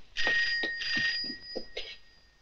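A home telephone rings in bursts of bright, repeated electronic trills, close and loud, with no talk over it.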